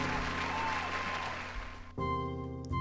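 Pub patrons clap and cheer as a staged audio drama effect, a dense wash of applause that swells, dips briefly, then cuts abruptly to a different layered crowd tone, with no one speaking over it.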